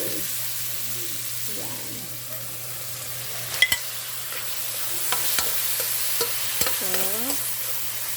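Chicken liver goes into a pan of frying pork and is stirred, giving a soft steady sizzle with scattered sharp scraping clicks from a utensil against the pan. A voice speaks briefly.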